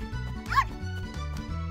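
A cartoon puppy gives a quick series of high, yappy barks with a bright whine in the middle, over a cheerful music bed.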